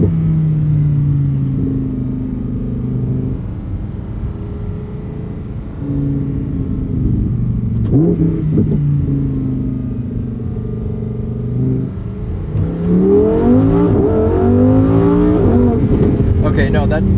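A 2023 Lamborghini Huracán Sterrato engine is floored at full throttle, its close, loud exhaust note rising through repeated revving climbs and gear changes, with brief talk.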